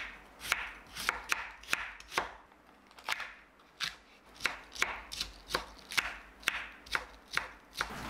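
Knife chopping a very large home-grown onion on a cutting board in a home kitchen, a quick series of sharp, close chops in an uneven rhythm with brief pauses.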